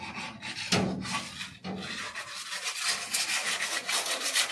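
Old rusted shop cart being rubbed down by hand before painting, a close, continuous rasping scrape in uneven strokes with a few sharper knocks early on, no talking.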